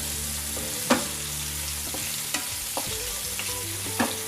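Chopped onions fry in oil over a low-to-medium flame with a constant soft sizzle and a few spatula knocks, over quiet background music.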